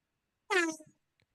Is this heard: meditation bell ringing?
no